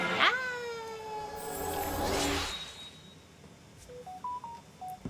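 A ringing phone in Persona 4 Golden sounds as a short run of electronic beeping tones near the end, following a rising synthetic sweep, with no speech.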